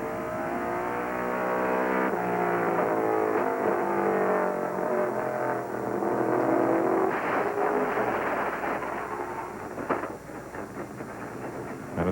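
Stock cars at the 1995 NASCAR Southwest Tour Winter Heat 200, engines roaring and revving loudly and continuously around the track through the crash sequence, with a steady dense mechanical drone and a few sharper impacts near the end.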